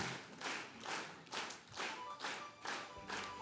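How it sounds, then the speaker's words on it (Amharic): A church congregation claps together in a sustained burst of rhythmic group applause, steady pulses repeating about twice a second, fairly distant and reverberant with no talking over it. "አጨብጭቡለት።"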